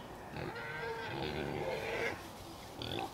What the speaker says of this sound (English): That's the pig noise.